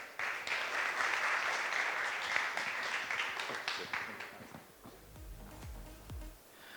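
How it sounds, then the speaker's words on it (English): Conference audience at a Taipei blockchain event applauds steadily, a dense wash of clapping that fades over several seconds, with a voice briefly speaking near the end. "So let's give applause to Ryder."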